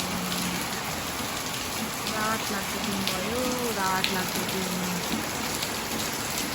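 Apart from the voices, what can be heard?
rain falling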